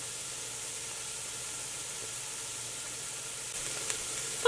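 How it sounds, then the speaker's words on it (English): Mirepoix vegetables sautéing in a soup pot, a soft, even sizzling hiss at low volume with a faint clink near the end, no voices. "So our veggies are still sauteing."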